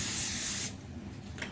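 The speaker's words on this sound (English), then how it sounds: "we're going to give a quick spray of spray oil on the pan" Cooking spray oil hisses from an aerosol can onto a baking pan in one short, close, loud burst, then stops, leaving faint handling noise.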